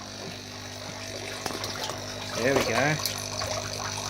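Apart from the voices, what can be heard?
water flowing from aquaponics line into bucket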